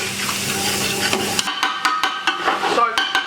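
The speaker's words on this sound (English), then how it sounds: "So I've now put it on full gas because I want the onion to caramelise quickly" Onion and lamb frying in a pan over full gas heat for a lamb shatkora, a steady close sizzle with sharp clinks and scrapes of stirring against the pan.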